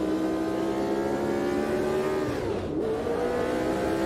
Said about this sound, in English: that's similar V8 sound that you get from this era of Formula 1 car